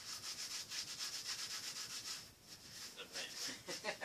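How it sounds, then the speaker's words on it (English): A cloth or rag rubbed back and forth to wipe paint off a painting surface gives quiet, rhythmic scrubbing strokes in a steady run, with a short pause midway before the rubbing resumes. "Wiping that paint off"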